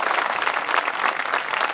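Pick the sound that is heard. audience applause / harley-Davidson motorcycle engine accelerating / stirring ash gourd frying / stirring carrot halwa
audience applause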